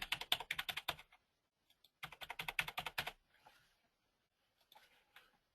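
Someone types a password on a computer keyboard in two quick bursts of crisp, close key clicks, with a pause between them and a few faint taps afterward in an otherwise quiet room.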